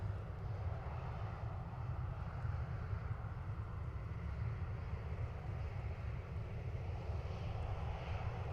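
A jet aircraft at Dublin Airport, a steady, far-off low engine roar that continues without a break, with wind noise on the microphone.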